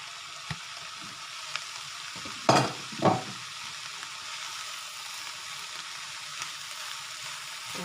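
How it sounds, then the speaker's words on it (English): Meat frying in a pan, a faint steady sizzle broken by a couple of louder scraping stirs in the middle. "And stir that through."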